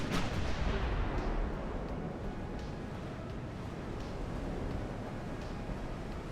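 Incoming artillery shells in Ultimate Admiral: Dreadnoughts, a heavy distant boom at the start followed by a continuous rushing, roaring wash of noise with faint scattered thuds, loud and unbroken throughout.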